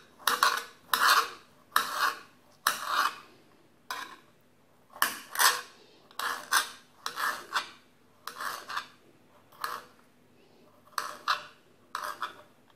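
Knife chopping tomatoes and onions on a board for a tomato salad, a close, steady run of crisp cutting strokes in short bursts with brief pauses between them.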